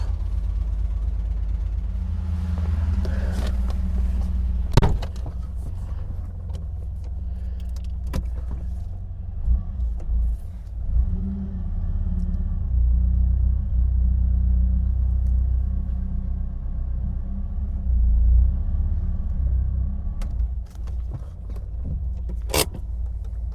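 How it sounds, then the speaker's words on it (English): A 1978 Scorpion's engine idles steadily after a cold start, a continuous low rumble close by with a few brief clicks and knocks over it. "It's been sitting for a few days and it is ice cold, and it started straight up."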